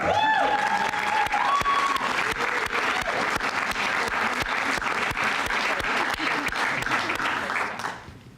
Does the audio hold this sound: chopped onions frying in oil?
no